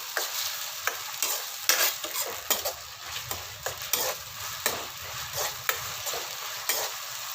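A large tomato fries in a pan over browned onions, with a steady close sizzle broken by repeated scraping stirs, and no one talking.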